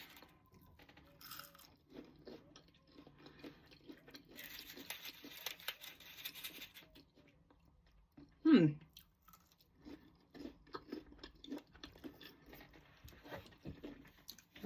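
Close-up crunchy chewing of fries dipped in mayonnaise, with soft intermittent bites and mouth sounds and one sharper crunch midway.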